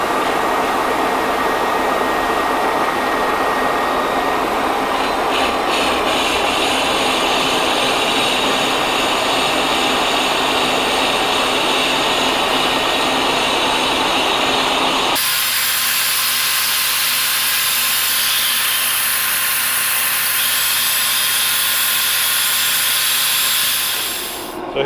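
A metal lathe facing a workpiece with a brazed carbide tool, taking a light cleanup cut; a steady broadband machining hiss and hum runs for about fifteen seconds, then drops to a quieter motor drone for the rest.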